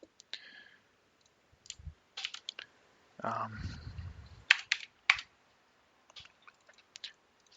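Keystrokes on a computer keyboard in a quiet room, scattered short clicks and brief flurries of typing with gaps between, close and fairly soft.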